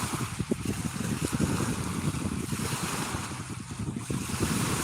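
Water waves lapping and splashing in a steady, irregular wash outdoors, mixed with wind buffeting the microphone, with no talking.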